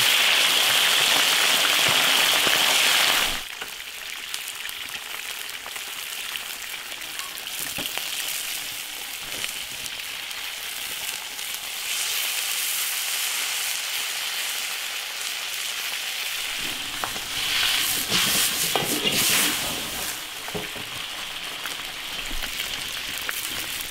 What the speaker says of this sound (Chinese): 先把鱼骨头煎一下。